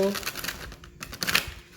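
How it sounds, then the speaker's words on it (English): Tarot cards being shuffled, with a run of crisp papery riffles and crinkles in quick bursts, close and moderately loud, and no voice over it. "Let me get another good shuffle."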